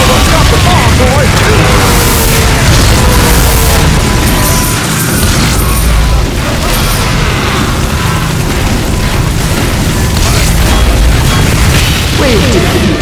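A giant robot's bomb goes off in a Team Fortress 2 Mann vs. Machine battle on a snowy outpost map, a dense, loud roar of blasts and rumble with overlapping gunfire and game effects throughout.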